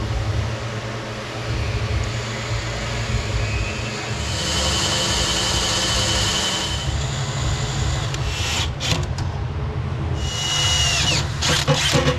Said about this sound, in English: Pilot drill it up.